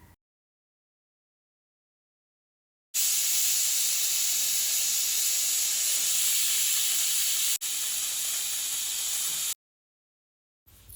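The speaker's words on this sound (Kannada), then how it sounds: "ಇವಾಗ ಇದನ್ನು 2 ವಿಸಿಲ್ ಮಾಡ್ಕೊಳ್ಳೋಣ." A pressure cooker boiling green gram lets out a long, steady, loud steam hiss lasting several seconds, with a brief break partway through, set between stretches of silence.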